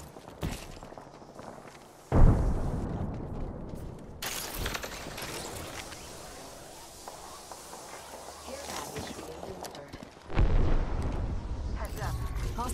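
A frag grenade explodes in Apex Legends, giving a sudden loud, close blast followed by a rough crackling tail. A second sharp blast comes later, and voices talk through the noise.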